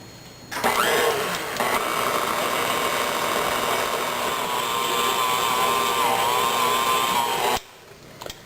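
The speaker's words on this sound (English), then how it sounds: "And this goes in the mixer for 3 minutes on first speed." A bakery dough mixer starts up on first speed and runs with a loud, steady mechanical whir and hum for about seven seconds before cutting off, close by with no voices.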